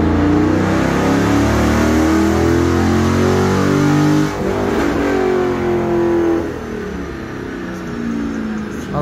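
A car engine revs hard on a dyno at a performance shop, a loud sustained drone that climbs and holds, eases briefly near the middle and then drops to a lower steady rumble.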